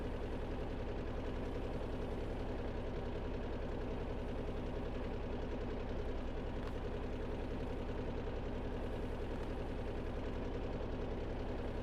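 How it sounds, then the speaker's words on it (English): A small engine with little power runs steadily without pause, a constant close chugging rumble with a fine rhythmic pulse and no voices. "this engine ain't chucking out that much power"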